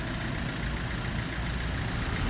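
A car engine runs steadily close by as the driver shifts into first gear, producing a constant, loud, low mechanical hum throughout with no voices.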